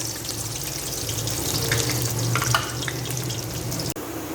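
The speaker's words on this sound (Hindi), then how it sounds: "अब जो मेरे पास प्याज थी मैं वो डाल दूँगी।" Onions fry in hot oil until brown, a close, continuous sizzle with some watery bubbling and a brief clatter near the end, with no talking.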